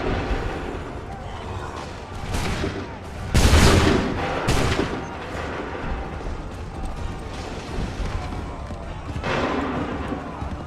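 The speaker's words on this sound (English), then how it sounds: "Open fire." Volley of musket gunfire after an order to open fire during a battle in Assassin's Creed 3 Remastered, a burst of overlapping shots with a loud peak followed by scattered booming reports over a constant battlefield din.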